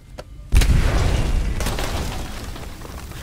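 A sudden heavy blast of a C4 charge at the start, loud and deep, followed by a long rumbling roar that slowly fades, with a second crack partway through, in the video game Aliens: Dark Descent.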